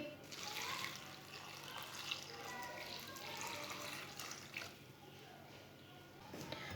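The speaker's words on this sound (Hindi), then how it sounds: "एक गिलास पानी डाल लेंगे।" Water pours steadily from a glass into a pot holding potatoes, salt, turmeric and cumin, a close, continuous splashing trickle with a voice talking over it.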